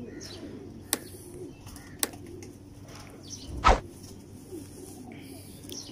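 Teddy pigeons kept as pets give a few sharp wing flaps and a louder burst of flapping near the middle, over a quiet background with faint cooing.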